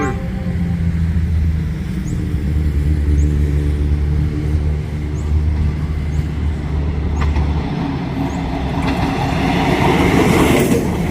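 Diesel railcar train rushing past a station platform at speed, a loud sustained rumble of engine and wheels with clattering rail joints and a rising roar near the end, close by with no talking.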